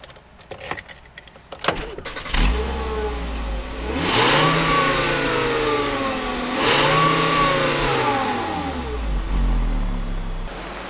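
A 2013 Volkswagen Beetle Convertible driven with the top down accelerates, its engine note rising and falling through two clear gear-change sweeps, loud and close, with a few sharp clicks before it pulls away.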